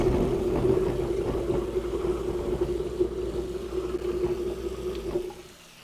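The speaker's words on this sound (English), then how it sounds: "As that water warms, I'll run it down the waste disposer." A kitchen sink waste disposer grinds steadily with warm water running through it, a loud close motor hum with rushing water that continues unbroken for several seconds before cutting off near the end.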